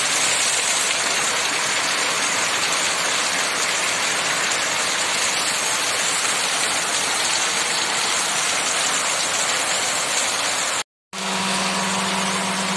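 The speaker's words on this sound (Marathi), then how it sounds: "हे बघा किती जोरात पाऊस पडतोय बघा" Heavy September retreating-monsoon rain pours down in a dense, unbroken roar, with a brief cut near the end before it resumes, no voices.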